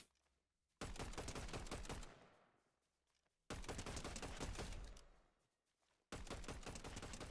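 Rapid burst gunfire rings out in the video game Fortnite during aim training, with three sustained volleys of fast repeated shots, each stopping abruptly and trailing off, with silence between them.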